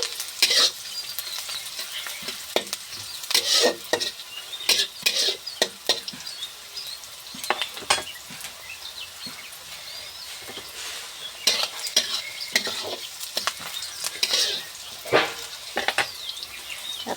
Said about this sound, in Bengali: দিয়েছি পেঁয়াজ আর তেজপাতা এটা হালকা ভেজে নিব পেঁয়াজটা